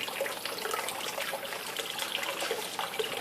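Water gurgles and trickles steadily as a bell siphon empties an indoor turtle pond, a close, continuous draining rush with bubbly pulses.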